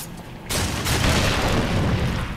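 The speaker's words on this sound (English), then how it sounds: "Alright, explosions everywhere." Explosions in the video game Darksiders II, with a sudden loud burst after a quiet start and then a sustained, rumbling roar of blasts and debris filling the rest of the clip.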